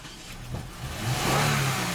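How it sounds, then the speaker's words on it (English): A Toyota Avalon engine with a misfire cranking as the starter turns it over, a short rising mechanical whir that builds into an engine roar, close and moderately loud. "So now I'm gonna crank the engine."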